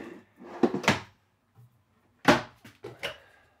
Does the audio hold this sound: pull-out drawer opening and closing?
yes